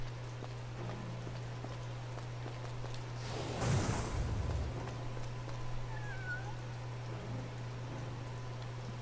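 A cat meows in the Legaia 2 Duel Saga video game: one drawn-out meow rises midway over a steady low hum and soft rain-like hiss, followed later by a faint, brief chirp.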